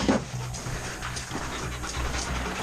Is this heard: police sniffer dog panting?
yes